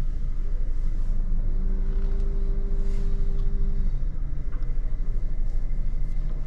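Steady low engine rumble of a Honda Brio rolling backward on its own with the clutch released, with a faint tonal hum partway through and no talking.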